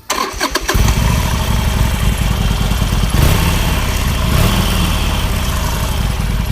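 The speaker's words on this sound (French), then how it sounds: "Alors le bruit est un peu étouffé parce qu'on est sur une moto aux normes européennes." A 2016 Harley-Davidson Roadster 1200 with European-compliant exhaust cranks briefly, catches, and settles into a loud, steady, throbbing idle close by, with no talking.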